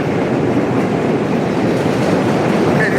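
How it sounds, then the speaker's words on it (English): Loud passing trains, a steady heavy rumble of rail cars rolling close by with faint rhythmic wheel clatter, sustained throughout. "Hey, these trains are loud."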